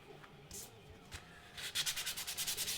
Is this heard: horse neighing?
no